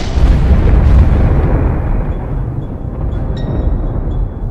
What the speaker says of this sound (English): the two annihilate each other in a ferocious blast of energy